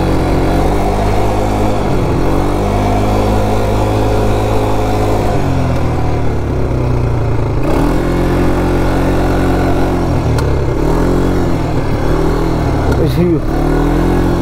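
An off-road vehicle engine runs loud and continuous on a dirt track, its drone rising and falling with throttle, while a voice talks over it in places.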